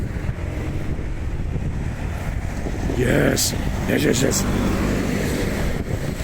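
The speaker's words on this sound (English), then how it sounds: "Yeah, it's getting windy." Gusty wind buffets the microphone with a constant low rumble at a roadside roundabout, with traffic passing and a brief spoken word over it.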